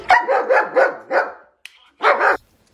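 A dog barks at a middle-finger toy in a quick string of four loud, close barks, falls briefly silent, then lets out one more sharp bark.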